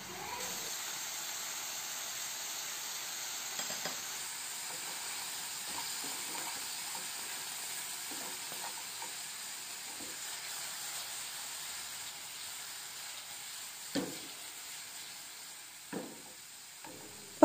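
Salt, pepper, sweet paprika and cumin sizzle steadily in a hot frying pan, a continuous frying hiss broken by a few soft scrapes and knocks of stirring, with no talking.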